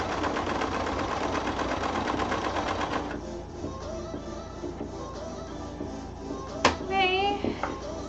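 A threaded sewing machine stitches at a steady fast rhythm for about three seconds, then stops, leaving quieter room sound with someone talking near the end.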